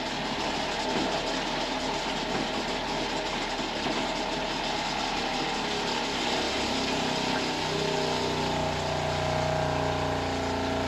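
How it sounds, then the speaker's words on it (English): A truck shower's water pump runs steadily, sputtering and pushing air instead of water, a continuous broadband rushing and churning with a low mechanical hum throughout, fairly close and loud, with no talking. "It's only air coming out of the pump."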